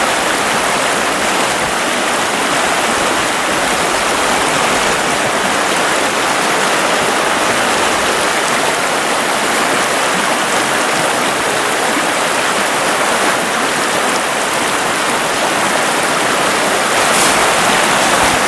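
Fast-flowing stream swollen with snowmelt, a loud, unbroken rushing roar of water heard up close and alone for the whole stretch.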